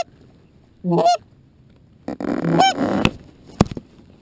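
Geese honking as a flock flies overhead during a goose hunt in Washington, a few loud nasal honks in separate bursts with gaps between, fairly close.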